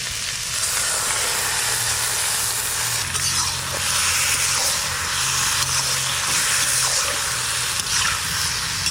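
Steady, loud hissing sizzle of bay leaves, cumin and onion frying in a pan, continuous throughout with a low hum underneath and no talking.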